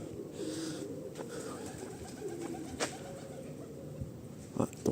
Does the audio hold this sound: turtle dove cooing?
yes